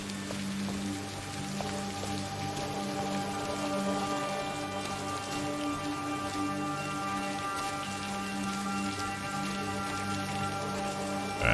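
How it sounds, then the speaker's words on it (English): Steady rain falls in the Blair Witch video game, a dense, even patter of drops on trees and ground running throughout, with low steady tones from the game's soundscape beneath and no voices. "These trees are not providing adequate coverage from this rain."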